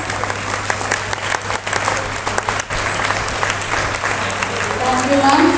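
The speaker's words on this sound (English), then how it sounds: "Let us show our appreciation with a round of applause." Audience applause at a school centenary celebration, sustained clapping from a crowd that swells slightly toward the end, with a voice audible over it.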